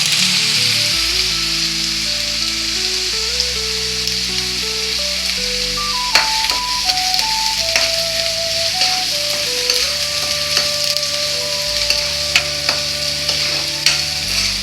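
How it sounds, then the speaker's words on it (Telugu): Onions sizzle gently over a low flame in a home kitchen, a constant close crackling hiss with occasional ladle clinks, while a faint melody plays in the background. "ఇది కొంచెం ఫ్రై అవనిద్దామండి. చిన్న మంట వేసి వేగనిద్దాము."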